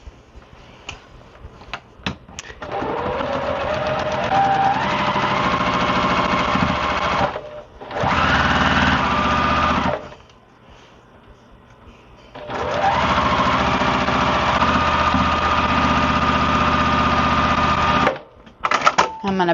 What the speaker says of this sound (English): I'm going to line up those 2 seams, and because of the way we've pressed these blocks, they should nest, and I'm going to sew down that row